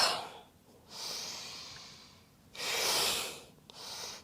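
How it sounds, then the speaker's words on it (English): Strong yoga breathing during a chakra practice session, two long forceful breaths with airy, rushing sounds, a pause between them and a short sharp exhale at the end, close to the microphone and with no talk. "Lots of strong breath work."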